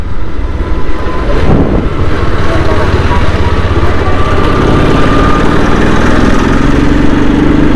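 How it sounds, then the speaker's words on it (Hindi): A motorcycle rolls slowly down a road with a steady engine drone and heavy wind rumble on the microphone throughout. It sounds close and loud, with a rider's voice talking over it. "अभी बाइक की स्पीड भी ज़्यादा नहीं है, एकदम स्लो चल रहे हैं।"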